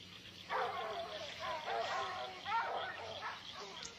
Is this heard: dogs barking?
yes